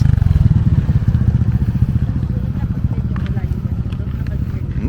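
Rumbling engine of a Yamaha Aerox motor scooter going by up close on an uphill road in Malico, a loud throbbing putter that fades slightly as it passes, with people talking over it.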